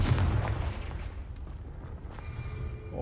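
A Confringo blast spell explodes in Hogwarts Legacy with a loud, deep rumbling boom at the start that fades into a sustained low roar, with a brighter magical shimmer rising near the end.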